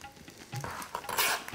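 Cut leeks drop into a pot of boiling salted water, giving soft splashing, bubbling and faint clinks, with a brief rush of hissing near the end, quiet and close.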